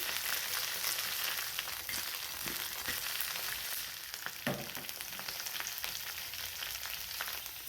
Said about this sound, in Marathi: इकडे ही आपली भेंडी तेलामध्ये छान अशी भाजलेली आहे